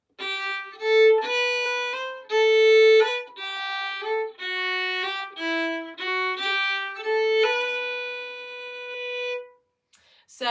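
The first phrase of the Irish hornpipe The Rights of Man is played solo on a single melodic instrument. A clean, unhurried run of about a dozen gently slurred notes ends on a long held tone.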